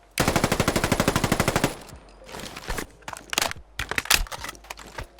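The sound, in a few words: QBZ-191 rifle reload in Fallout 4 mod, video game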